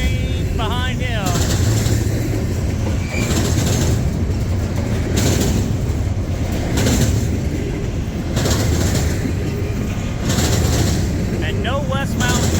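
A freight train rolls past on the Canadian National-CSX line, its steady rumble and clatter of railcars continuous and fairly loud throughout, with brief voices talking near the start and end.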